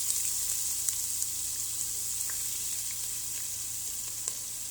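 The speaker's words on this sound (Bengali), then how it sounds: "এখানে দিয়ে দিচ্ছি পেঁয়াজ" Chopped onions frying in a hot pan on reduced heat for polao give off a steady, close, even sizzle with faint scattered pops and no talking.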